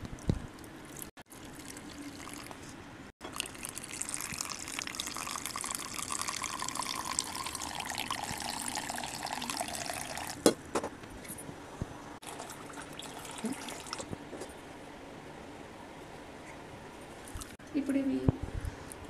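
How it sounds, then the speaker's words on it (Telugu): Boiled sugandhi herbal decoction is poured slowly through a cloth into a container, making a steady close trickle and splash of liquid that runs for most of the stretch, with people talking throughout. "మనం 1/2 లీటర్ వరకు వచ్చే వరకు కాసిన సుగంధ కషాయాన్ని నెమ్మదిగా పోయాలి."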